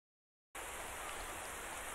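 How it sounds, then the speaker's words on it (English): Steady rain in the Roblox game After the Flash: Wintertide, cutting in abruptly as a dense, even hiss that continues unbroken and fairly soft, with no voices over it. "God damn, I hate this goddamn fucking rain."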